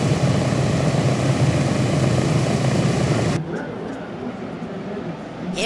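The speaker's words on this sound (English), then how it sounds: "Here's a plane from the Marines warning you of danger." Marine Corps propeller plane flying over at an air show, a loud steady engine drone that drops off sharply partway through, with crowd noise around it.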